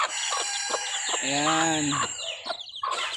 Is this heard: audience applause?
no